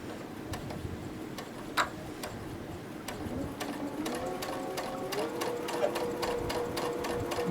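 Sewing machine stitching slowly across a quilt seam for a Dutchman's Puzzle block, a steady run of close mechanical ticks and clicks with a faint hum underneath, unbroken and evenly paced throughout.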